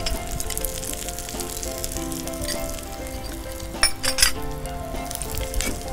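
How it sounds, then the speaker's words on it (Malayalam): Chili powder and coriander powder sautéing in a hot pan, a steady close sizzle with a few sharp clinks of a utensil against metal near the end, no voices. "ജസ്റ്റ് ഒന്ന് സോട്ട് ചെയ്തിട്ട്"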